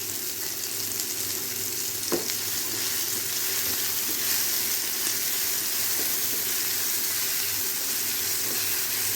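Tomato masala for Chettinad chicken fry sizzles steadily in a hot pan, a close, continuous hiss broken by a few faint clicks of stirring.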